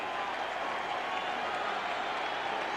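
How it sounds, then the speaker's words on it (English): A Dodger crowd at a 1980 Houston Astros versus Los Angeles Dodgers baseball game roars in a steady, dense wash of cheering and applause that holds at an even level throughout. "And the Dodger crowd again rising."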